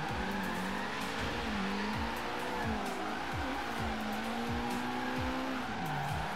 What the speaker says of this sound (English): I'm like four wheel drifting right now